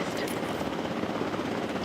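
Helicopter in Jurassic World Evolution 2, a steady, loud, continuous rotor and engine roar with dense fluttering texture, close and unbroken throughout.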